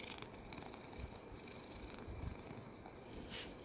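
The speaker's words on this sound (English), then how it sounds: "I can hear you purring." A cat purrs steadily and close up, a soft continuous rumbling with a low background hiss.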